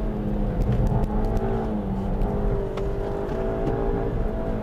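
Onboard a Suzuki Swift Sport with a naturally aspirated engine and six-speed manual gearbox, the engine drones steadily under acceleration with a constant whirring cabin hum.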